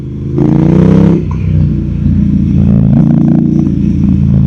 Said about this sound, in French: Quand vous mettez la poignée de gaz en ouverture full